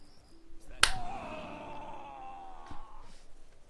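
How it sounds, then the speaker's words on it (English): A single sharp hand clap swatting a fly, loud and abrupt, followed by a drawn-out tonal ringing that fades over a couple of seconds, with a faint second tap near the end. "That clap was me getting a fly"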